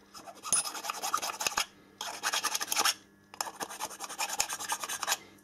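A small finishing file rasps back and forth over a handmade airsoft mine part, three close, steady bursts of scraping strokes separated by short pauses, with no voices.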